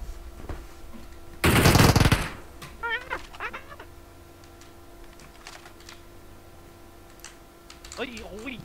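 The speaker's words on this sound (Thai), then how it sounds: "เนี่ยปาระเบิดแล้ว" A loud, sudden blast of a grenade explosion in PUBG Mobile bursts out, then fades to clicking keys and faint electronic sounds, with brief voices near the end.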